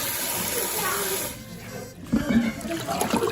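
Tap water running into a kitchen sink while dishes are washed after dinner, a steady close hiss that drops off and gives way to clattering, splashing handling noises.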